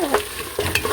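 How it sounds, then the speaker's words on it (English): Cumin powder and cinnamon stirred into a pot of homemade beef soup, a brief close scrape and clatter of a spoon, with two short sharp knocks, under a second. "Stir it all up."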